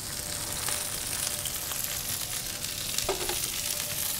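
Sliced shallot rings fry in a hot pan with a dense, continuous close sizzle and a few faint stirring clicks, without any voices.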